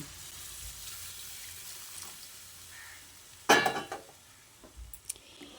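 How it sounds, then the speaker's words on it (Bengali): Hot water poured into spiced potatoes in a pan: quiet simmering first, then a sudden short splash and hiss as the water hits, fading back into gentle bubbling. "এবার আমি এর মধ্যে গরম জল অ্যাড করে দিচ্ছি"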